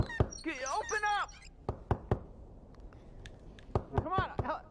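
Someone knocks and bangs on a door in several hard, separate thuds spread through the clip, while someone shouts angrily between the blows.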